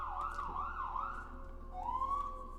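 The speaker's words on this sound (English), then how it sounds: "I'm by the hospital, so I get a lot of sirens during the night." Emergency vehicle sirens wail near a hospital at night, a distant, faint rising-and-falling siren sweeping up and down several times, then swelling again, heard alone with no talk over it.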